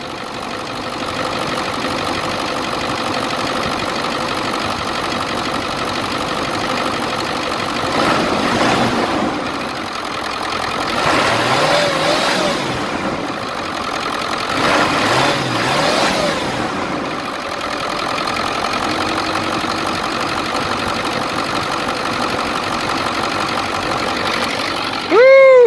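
A Ford 7.3 diesel engine in an Excursion idles after a belt replacement, a steady, close, continuous rumble that swells a few times midway and holds a constant drone to the end.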